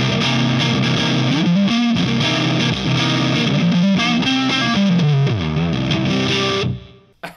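A Carvin California Carved Top electric guitar on its neck pickup plays a distorted, chorus-tinged riff, loud and sustained with shifting bass notes, then cuts off sharply near the end with a short ringing tail.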